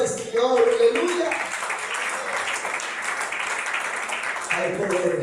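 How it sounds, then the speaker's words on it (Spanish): A church congregation applauds during a Spanish-language sermon: steady, full clapping throughout, with a voice speaking over it at the start and again near the end. "Denle ese aplauso al Señor"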